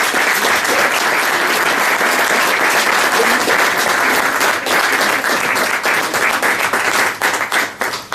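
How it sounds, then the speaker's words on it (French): An audience at a cycling club event applauds an organiser with sustained, close, dense clapping that keeps an even level and thins out into scattered claps near the end. "je pense qu'on peut vraiment l'applaudir"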